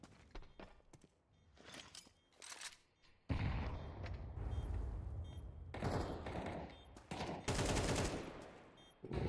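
Grenade blast and gunfire in a competitive Counter-Strike-style match: faint scattered shots, then a loud burst at about three seconds followed by sustained heavy firing and repeated bursts toward the end.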